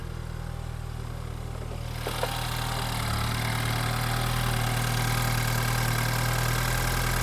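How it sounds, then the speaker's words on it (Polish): A BMW 528i F11 with the N20 engine idles steadily and close by, a continuous buzzing drone with a faint rattly texture and no talk over it. "posłuchajcie jeszcze sobie kulturę pracy tego silnika"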